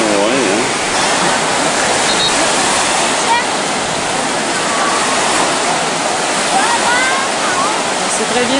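Ocean waves roll and break on a Cape Cod beach in a continuous loud, broad wash of surf, with voices faintly audible beneath the roar.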